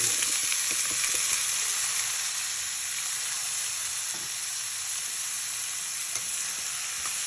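Chopped chayote added to cooked tomatoes frying in a pan, a loud, steady, close sizzle with faint stirring taps and no voices.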